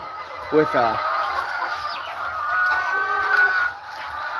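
Farm chickens clucking at close range, with a rooster-like call near the start and a steady run of overlapping clucks and chatter throughout, set against a busy outdoor background.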